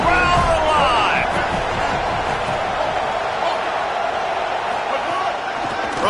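Loud, steady roar of a stadium crowd at a college football game, North Texas at Indiana, during a third-down red zone play, sustained throughout with a brief whoop early on and a commentator talking over it.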